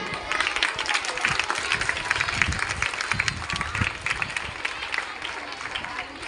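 Dense audience clapping fills a lecture hall at a Teacher's Day event, steady and fairly loud throughout with a busy crowd texture and some voices mixed in.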